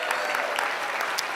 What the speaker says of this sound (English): Let's give Reverend Sharpton a strong round of applause